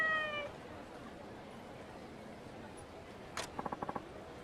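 A cat meows in the video game Like a Dragon: Ishin!, a quick series of short bright meows near the end, with faint game ambience before and no speech.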